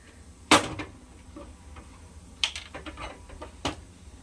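A few sharp metallic clanks, spaced a second or more apart, like a pot set down on a stovetop, with no talking.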